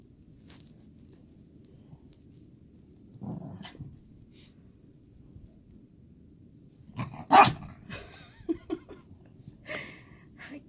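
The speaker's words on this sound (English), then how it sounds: "I can't exercise with you barking and growling at my legs." A Yorkie barks and growls at someone's legs during an exercise session indoors: quiet at first, then a burst of close, sharp barks with snarling and growls, scattered over several seconds.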